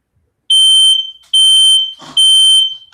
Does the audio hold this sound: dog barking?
no